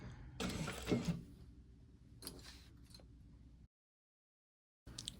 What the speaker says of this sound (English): All right, I am going to back stitch at the beginning and end.